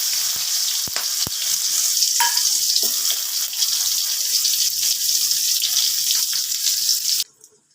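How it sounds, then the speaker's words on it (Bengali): Onions fry in a pan for a Bengali egg and poppy-seed dish, giving a loud, steady sizzle with a few knocks and stirring scrapes, before the sound cuts off sharply near the end. "পেঁয়াজটা ভাজা হয়ে গেছে"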